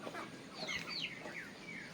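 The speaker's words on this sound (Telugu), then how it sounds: "ఇవైతే నాటుకోళ్ళు." Native country chickens clucking in a backyard coop, several soft, irregular clucks and short calls overlapping at moderate distance, no speech.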